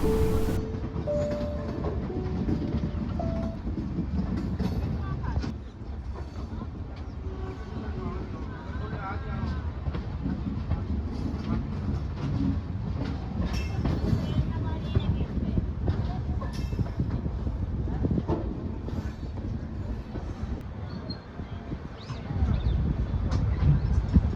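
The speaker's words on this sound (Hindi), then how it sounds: "और अब हमारी ट्रेन धीरे धीरे बढ़ चुकी है रतलाम वाली लाइन पे" Swaraj Express passenger train rolling on rails toward the Ratlam line, a loud continuous rumble with rhythmic clatter heard from inside the coach, with people talking under it.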